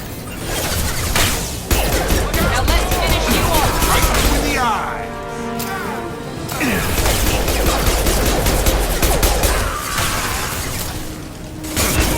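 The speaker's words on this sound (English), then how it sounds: "The Blue Suns and Vorcha are shooting anything that moves." Rapid bursts of gunfire from Blue Suns mercenaries and Vorcha in the Mass Effect 2 video game, loud and chaotic, with a voice speaking over the shooting and clashing game effects.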